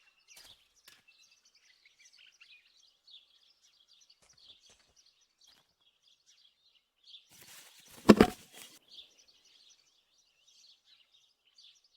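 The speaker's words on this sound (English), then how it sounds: "There might be birds around the little wall in front of the house." Faint birds chirp and tweet in scattered bursts throughout the quiet surroundings of a house in the video game Martha Is Dead, with a short louder rustling thump midway.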